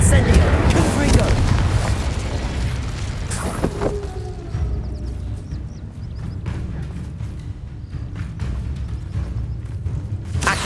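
The fiery Confringo blast spell in the video game Hogwarts Legacy erupts as a loud, rumbling boom at the start, then fades into quieter crackles and thuds, with a voice calling out amid the combat.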